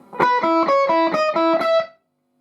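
A distorted electric guitar plays a short lick, with single open E hits between rising fretted notes, about eight quick picked notes ending after two seconds.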